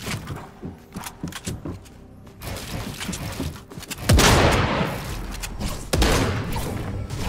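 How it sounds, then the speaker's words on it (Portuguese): Gunfire in Fortnite Chapter 3, with SMG and shotgun fire: loud, close bursts of rapid shots and heavy booming blasts that come in uneven clusters. "O cara tá atirando em não sei quem."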